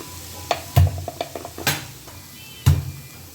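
Turmeric powder being sautéed into dal in a pan, heard as a few sharp spoon scrapes and knocks against the pan over a soft sizzle, fairly close, with no talking.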